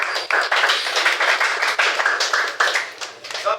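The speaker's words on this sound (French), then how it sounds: "On peut applaudir pour le bien" Dense audience clapping fills a classroom or training hall after a French-language learners' evaluation, steady and close for several seconds with no break in the noise.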